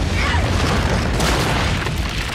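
A loud, sustained booming roar of an explosion from the film Rurouni Kenshin fills the whole clip with dense rumbling and crackling debris, continuous and close.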